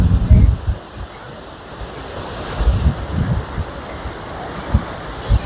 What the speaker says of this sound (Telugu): చూడండి, చూసి హాయిగా వాటర్ సౌండ్ని ఎంజాయ్ చేయండి